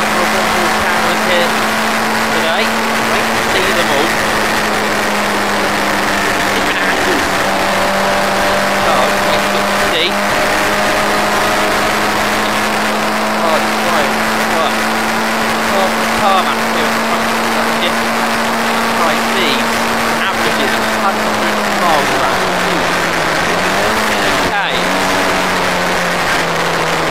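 Historic Formula Ford race cars lap the Thruxton circuit in a close multi-car battle, with a steady, sustained engine drone and pitch shifts as cars pass, heard beneath commentary.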